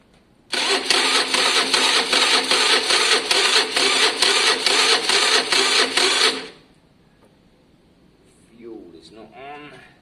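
Starter cranking on a Harley-Davidson motorcycle in a garage, a loud steady rhythmic churning with regular pulses for about six seconds, then stopping abruptly, followed by quiet and a brief faint voice.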